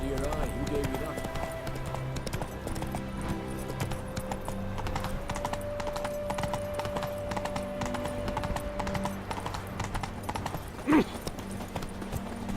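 A horse gallops in The Witcher 3 video game, with rapid rhythmic hoofbeats at a steady pace throughout, overlaid with game music tones and a brief louder thump near the end.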